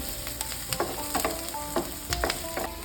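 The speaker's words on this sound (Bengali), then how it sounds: "আদাটা একটু হালকা করে ভেজে নেব।" Soft sizzling of grated ginger frying in a hot pan, with a few light scrapes and taps of a utensil stirring.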